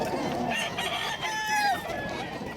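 Roosters crow among clucking fowl at a pet market in Bulacan, one drawn-out crow standing out faintly over a busy, murmuring background.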